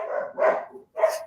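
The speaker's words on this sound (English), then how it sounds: "This is more than one dog." A group of four dogs downstairs in a home barking in bursts, a longer run of barks then a short pause and another sharp bark, fairly close and loud with no voices.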